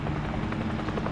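A video-game helicopter drones steadily throughout, its low rotor hum loud and constant with no talk over it.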